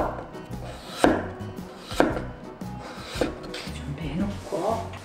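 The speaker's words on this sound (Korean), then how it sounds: "비트 100g 얇게 썰어 주세요." A knife slicing beetroot thinly on a cutting board, about four distinct firm cuts spaced roughly a second apart, each with a brief rasping scrape, close and moderately quiet.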